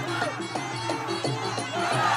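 A kickboxing crowd roars and cheers through the hall in a steady wash of voices, swelling slightly toward the end, with a commentator's voice faintly underneath.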